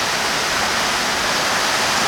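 A flooded river rushes near a waterfall, giving a steady, dense roar of water throughout with no break or change.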